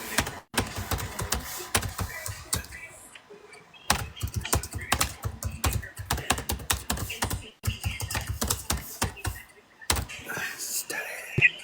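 Rapid, close keyboard typing clatters on and off, with brief pauses between flurries of keystrokes and a few louder knocks.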